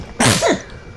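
A single sudden sneeze, loud and close, with a sharp burst followed by a short high-pitched tail.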